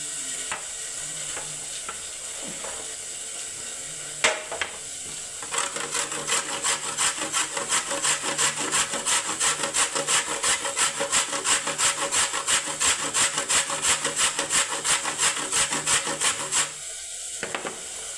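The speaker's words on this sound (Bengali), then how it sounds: "খাট্টা মিঠা চাটনির জন্য বন্ধুরা আমি গুড়টাকে কিছুটা আমি গ্রেট করে নিচ্ছি" Jaggery is grated by hand for a sweet-and-sour tomato chutney. Close, steady back-and-forth rasping strokes keep a fast, even rhythm for over ten seconds, with scattered knocks and handling noise before and after and no talking.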